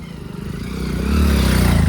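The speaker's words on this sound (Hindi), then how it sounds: "ओ बाइक आ रही है भाई, यहाँ से बाइक भी आती है।" A motorbike approaches on a hill path near Barsana, its low engine drone growing steadily louder over two seconds as it nears, with no talking over it.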